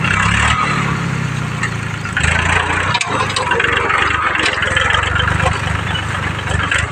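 A tractor engine runs steadily at a loud, close, constant drone while ploughing soft, rain-soaked farm soil, and voices talk over it.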